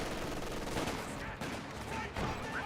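Gunfire in the real-time strategy game Company of Heroes 2 as a unit puts rounds into a Kubelwagen: dense, rattling bursts of shots over rumbling battlefield noise, fairly loud and continuous with brief dips.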